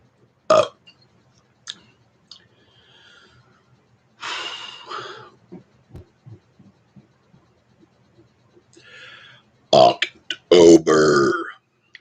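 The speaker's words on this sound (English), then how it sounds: "I try to get the best burp when I'm doing my videos." Several loud, throaty burps erupt close up, separated by quiet gaps with small breaths and mouth noises, ending in a cluster of strong, drawn-out belches.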